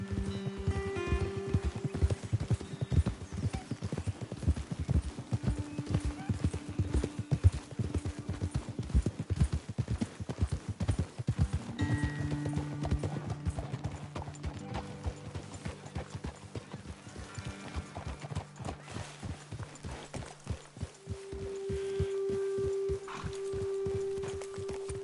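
Horses walking in Red Dead Redemption 2, with steady hoof clip-clop running throughout, close and fairly loud, while game music plays underneath and a horse whinnies briefly.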